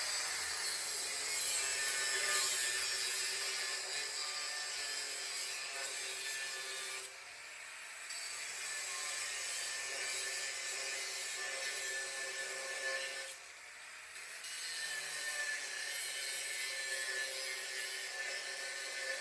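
Power tool cutting slits in metal tubing for a custom bumper, a steady high, hissing grind that continues throughout with two brief dips as the cut is repositioned.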